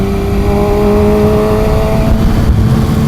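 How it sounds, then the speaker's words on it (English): A 2013 Kawasaki ZX-6R 600cc sport bike engine runs loud and close, holding a steady idle-like drone with harmonic whine, nothing else competing. "I'm out here on my super cool sport bike."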